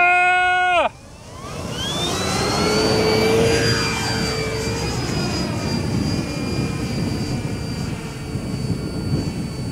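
An E-flite DRACO 2.0m RC airplane's electric motor spools up after a short burst of tones, then holds a steady, loud whine with rising harmonic tones above a broadband rush, close by and continuous.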